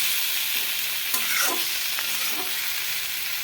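Fried okra sizzles in a pan with tomato and spices while a spoon stirs it, a bright continuous hiss broken by a few scraping sweeps.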